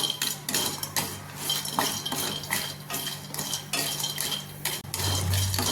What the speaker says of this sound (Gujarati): ચક્રી ફૂલને પણ આપણે આવી રીતે શેકી લઈશું